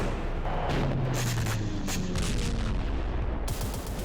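Heavy artillery bombardment during the Russia-Ukraine war, a dense, loud rumble of booms and sharp blasts overlapping with no letup and crackling bursts on top.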